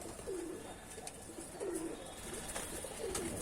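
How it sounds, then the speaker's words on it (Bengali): Pigeons coo softly on a rooftop where they come to feed, three repeated low rolling calls spaced about a second and a half apart, fairly faint against quiet outdoor ambience. "দেখছো কত পায়রা খেতে এসেছে"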